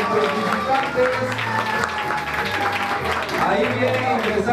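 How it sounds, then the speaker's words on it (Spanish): Children clapping together to welcome arriving visitors at the Mocolicxot Bajo village school, a steady mid-level applause that runs the whole time with chatter and voices mixed in. "vamos a brindar de fuertes aplausos, que se vean los aplausos para nuestros visitantes"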